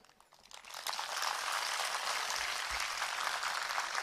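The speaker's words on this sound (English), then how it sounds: "Clap for them." An audience at the All India Children's Taj Wellness Festival 2014 breaks into applause, rising quickly into dense, sustained clapping that fills the hall.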